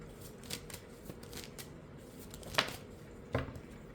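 Tarot cards being shuffled and pulled from the deck: soft riffling and sliding with a few sharp card snaps, close and fairly quiet, with no talk.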